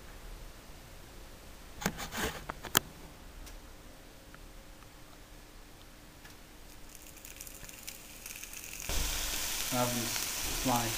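Bacon frying in a pan, a quiet hiss broken by a few sharp clicks and taps early on, then a louder, fuller sizzle near the end, close by and without speech.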